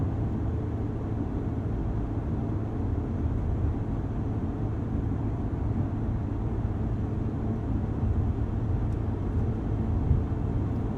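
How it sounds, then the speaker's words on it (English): Inside the cabin of a Lotus Emira V6 manual at speed, a steady low roar of tire rumble mixes with a soft rush of wind noise, constant and moderately quiet with no talking. "Yes, you have some tire noise, a little bit of wind noise"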